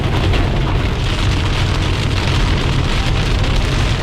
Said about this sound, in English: Rain's really coming down now too